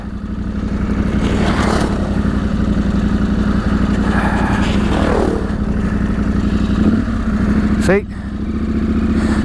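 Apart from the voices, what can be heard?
motorcycles riding on a reservoir trail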